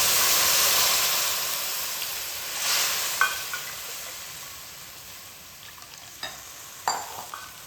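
Water poured into a hot pan of frying rice for a Jagannath offering dish, a broad loud sizzling hiss that slowly fades, with a few scraping stirs and clinks afterward.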